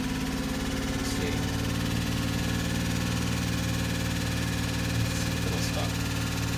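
A 2005 Chevy Equinox engine idles after startup with a steady low hum and faint rhythmic pulsing, recorded close and continuous, no talking.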